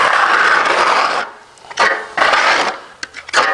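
A putty knife presses drywall mud into a hole and wipes off the excess, making loud scraping, smearing strokes in several bursts separated by short pauses.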